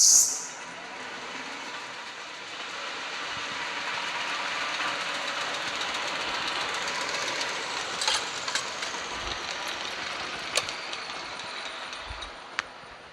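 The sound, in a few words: jute mill spinning machine running, bobbins spinning fast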